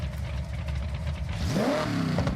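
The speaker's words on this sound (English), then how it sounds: "You can hear the supercharger on it." A supercharged V8 car engine in the Forza Horizon racing game hums steadily, then revs up with a rising supercharger whine that climbs sharply near the end.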